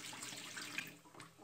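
Water with vinegar being drained off chicken gizzards in a kitchen, a faint, steady splashing trickle like a running tap, with a few brief clinks and splashes near the end.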